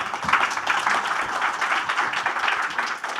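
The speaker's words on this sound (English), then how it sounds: "So let's continue applauding for them." Sustained applause from a conference audience at a fintech festival session, dense steady clapping that continues without a break throughout.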